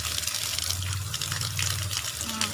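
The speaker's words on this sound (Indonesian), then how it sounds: "Kita buat lagi aliran airnya lebih besar." A stronger stream of water pours onto a small propeller, a constant close splashing gush with bright, dense spatter and no pauses.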